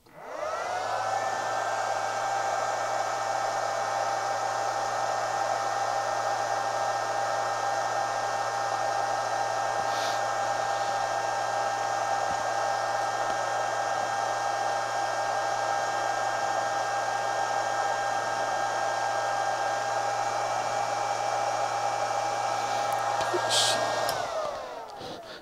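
A Chinese handheld arc stick welder fed a dead short gives off a loud, steady electrical hum and whine that holds for over twenty seconds before cutting off.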